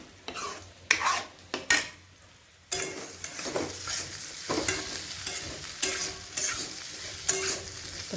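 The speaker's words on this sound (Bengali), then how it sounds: "তো প্রায় ভাজা হয়ে গেছে," Onions frying in a pan in a home kitchen, with a steady close sizzle broken by scraping stirs and clinks of a utensil against the pan, loudest in the first few seconds.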